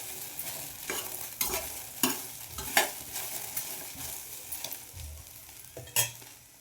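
Okra (ladies finger) frying in a pan, a soft continuous sizzle broken by repeated scraping strokes of a spatula stirring the pieces, close and fairly steady, with no voices.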